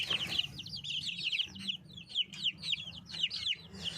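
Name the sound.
chicks chirping and clucking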